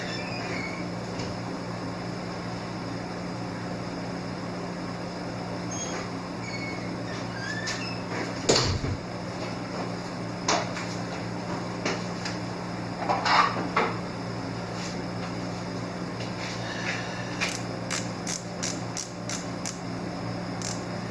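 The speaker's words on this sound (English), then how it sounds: "let's get a torque wrench out here and torque this down." A torque wrench tightening the bolts of a Pierson Pro Pallet System on a Tormach PCNC 1100 stand: scattered faint metallic clicks and knocks over a steady hum, ending in a quick run of ratcheting clicks.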